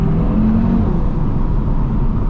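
A 2021 Audi TT RS with a seven-speed dual-clutch gearbox accelerates hard in dynamic mode, its engine a loud, steady low roar with a rising tone early on, heard from inside the car on a country lane.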